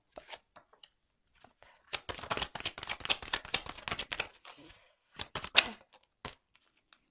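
Playing cards shuffled by hand in a quiet room, a dense riffling burst of crisp flutters lasting a couple of seconds, followed by a shorter second riffle and scattered light card taps.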